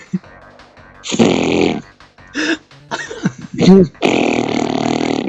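A voice imitates a fart with loud, buzzing, sputtering blasts of the lips in several bursts, close and raspy, with a long drawn-out final blast.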